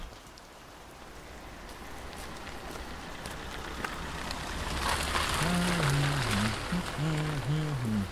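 Steady rain pours throughout an outdoor scene in a German crime audio drama, a dense hiss that swells louder after the midpoint; a voice-like tone enters near the end.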